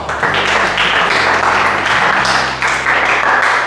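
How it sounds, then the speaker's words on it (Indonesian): Classroom applause from students for a presenting group, a loud continuous wash of clapping hands with a low steady hum beneath it. "kita beri tepuk tangan untuk kelompok yang keempat."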